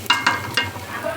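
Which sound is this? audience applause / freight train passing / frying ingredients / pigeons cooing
frying ingredients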